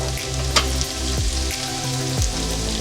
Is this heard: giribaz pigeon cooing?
no